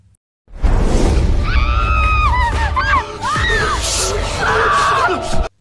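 A woman's loud high-pitched screams and shrieks rise and fall over a noisy, crowded background, several voices overlapping in bursts, in a ghost story.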